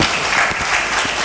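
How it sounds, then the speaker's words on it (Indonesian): An audience claps steadily for Bu Nini at a cooperative awareness gathering, a dense, loud burst of applause that fills the whole short moment with no voices. "Sekali lagi kita kasih aplaus untuk Bu Nini"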